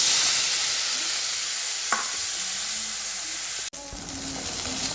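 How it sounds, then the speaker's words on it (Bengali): Coconut pieces coated with salt, turmeric and a little sugar fry in a pan over a lowered gas flame, making a steady sizzle with occasional scraping stirs and a brief sharp clatter partway through. "এই যে নারকেলগুলো আমি গ্যাসটা কমিয়ে দিয়ে নাড়তে থাকছি।"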